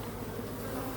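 Honeybees buzz around a hive fitted with a queen excluder, a dense, steady swarm hum close by with no voices.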